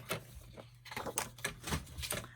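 Designer series paper is cut into strips, heard as a series of close, crisp cutting and trimmer clicks in an uneven rhythm, with no voices.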